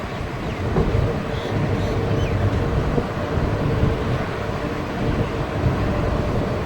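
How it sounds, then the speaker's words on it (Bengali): Mayurakshi Express pulling into Pinargoria station at five in the morning on a hilly Jharkhand line, a steady loud rumble of carriages rolling alongside the platform with no gaps. "সকাল 5টার সময় ট্রেন এসে পৌঁছালো পিনারগড়িয়া স্টেশন।"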